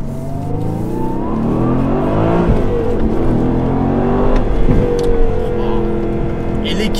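A 2019 Aston Martin Vantage AMR with manual gearbox accelerating on the road, its engine note climbing through revs in a loud, sustained rising drone with a rumbling exhaust, heard from inside the car, and someone talks over it.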